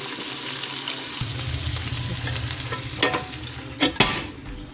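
Pork chop frying and sizzling in its own rendered fat in a pan, a steady close sizzle with a few louder bursts of spatter or stirring near the end; nobody speaks.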